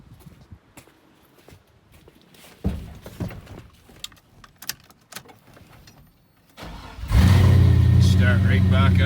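A car engine that stalled from lack of fuel is cranked and catches near the end, jumping to a loud, steady idle after clicks and rustling, with a voice talking through the early part.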